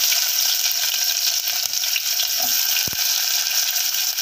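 Sliced large onions hit hot oil with popped mustard seeds for a vegetable sambar, giving a loud, steady close-up sizzle with a single sharp clink partway through.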